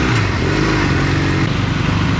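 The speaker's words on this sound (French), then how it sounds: "Il y a des fois, je suis bien content d'avoir une moto." A motorcycle engine runs in city traffic in Chiang Saen, Thailand, a loud continuous close drone with a low rumbling throb, no talk over it.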